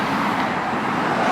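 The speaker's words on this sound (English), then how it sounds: "we got good traffic coming" Outdoor road traffic passing close by, a steady loud roar of car engines and tyres on the roadway with no break.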